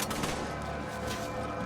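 Sustained MP5 fire in Resident Evil 5, a dense, loud stream of rapid gunshots continuing unbroken through the short burst.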